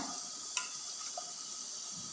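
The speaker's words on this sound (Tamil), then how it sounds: "தண்ணி நல்லா தேவையான அளவு தண்ணி ஊற்றிக்கிங்க" Water is poured into a pot of rinsed moong dal for cooking a lentil and greens dish, a steady soft splashing stream with a couple of small clinks.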